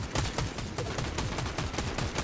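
In Fortnite, a glitched gun fires on its own in a rapid, continuous burst of automatic gunshots, fast repeated cracks packed tightly together at a steady level with no talking.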